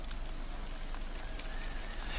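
Steady rain hiss from the video game Ghost of Tsushima, a dense even patter of drops held at a quiet, constant level with no other sounds.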